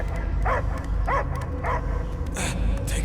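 Dog barking in the video game Marvel's Guardians of the Galaxy: a few short barks spaced about half a second apart over a steady low rumble, with faint yips near the end.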